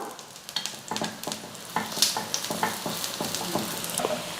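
Paniyaram batter fries in a covered pan on a medium flame, giving a close, steady sizzle dotted with small crackles and pops, with no talking.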